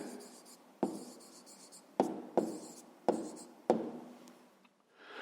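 Pen writing out the answer to a fifth-grade arithmetic-mean problem, a run of close, distinct scratchy strokes in bursts with brief pauses between them.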